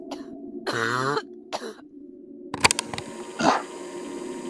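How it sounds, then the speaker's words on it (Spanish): A person coughs and clears their throat a few times up close, rough hacking bursts separated by short pauses, with a muffled rustle behind. "Tos."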